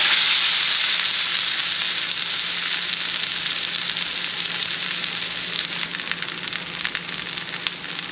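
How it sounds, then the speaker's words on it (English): Meat for a Cuban sandwich sears in a hot pan, a loud, dense, continuous sizzle close by that holds steady throughout with only slight crackling variation. "on this pan, we're gonna sear it on all sides"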